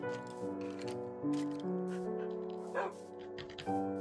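Several small dogs in Minecraft yip and bark with synthetic, game-like tones over a droning musical background, in short repeated bursts.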